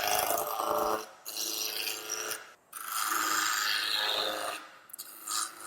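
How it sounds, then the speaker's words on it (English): Woodturning roughing gouge being sharpened, heard as close, harsh rasping grinding strokes in several bursts of one to two seconds separated by short pauses, with no talking. "it's time to sharpen the roughing gouge"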